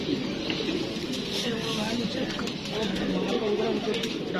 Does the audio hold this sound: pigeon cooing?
yes